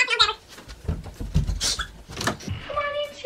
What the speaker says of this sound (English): sorry if you can hear a dog.